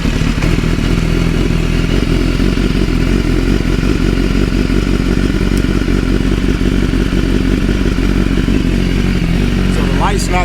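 A BMW S1000RR sport bike engine runs loud and close, a steady rough roar with clattery mechanical texture that holds for the whole stretch.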